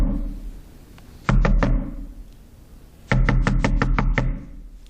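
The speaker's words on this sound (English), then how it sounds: "And what do you think she heard? The knock again." Sharp knocking in a bathroom: a quick close burst of three knocks, a pause, then a longer run of about seven loud raps, with a quiet room hum in between.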